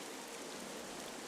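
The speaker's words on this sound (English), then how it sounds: "this place suffers under dark clouds and rain" Soft, even rain falls on a cursed island in The Wind Waker, a faint, unbroken hiss with no voices.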